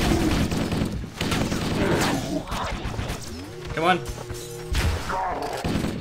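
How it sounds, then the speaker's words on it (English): Plasma shots from an arc turret in Halo, heavy energy blasts and thumps firing in bursts over a few seconds, with a player talking over them. "That was a strong plasma shot."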